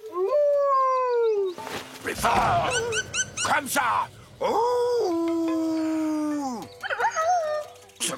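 A cartoon bird imitating a wolf howl, with long, wavering, rising and falling howls interrupted by a voice talking and brief scuffling noises.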